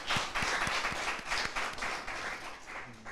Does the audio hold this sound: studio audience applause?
yes